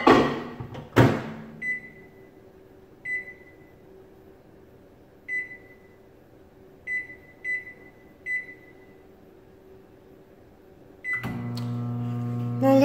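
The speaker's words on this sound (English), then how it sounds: "I'm going to put this in the microwave" A microwave oven hums steadily, with a few short, soft clicks spaced through its run and louder clunks at the start and end.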